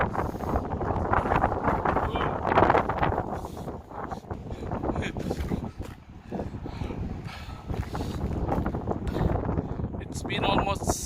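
Strong gusting wind roars and buffets the microphone for the whole stretch outdoors near dusk, a loud, rough, continuous rumble with someone talking over it.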